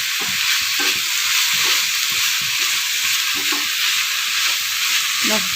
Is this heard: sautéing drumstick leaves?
yes